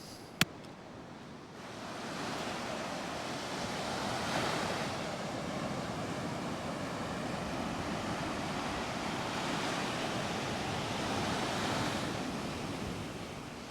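Waves wash steadily onto a beach at a cove in Mallorca, a continuous broad surf roar with gentle swells, heard from nearby under some wind buffeting and a brief click at the start.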